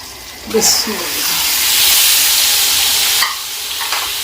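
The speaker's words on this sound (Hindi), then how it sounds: "इसमें अंडे शामिल कर देंगे, अंडे फ्राई करेंगे" Eggs sizzling in a pan with spiced oil for egg biryani: an initial clatter as they go in, then a loud, swelling hiss of frying that drops back to a lighter sizzle near the end.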